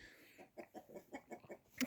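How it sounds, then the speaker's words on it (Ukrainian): Soft, rhythmic clucking from chickens close by, a quick run of low pulsed calls ending in a sharper squawk. "Та що це за кури?"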